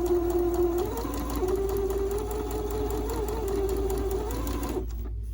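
Sewing machine stitching fabric pieces along a diagonal line, a steady close motor hum with a continuous rhythmic whir that stops abruptly near the end.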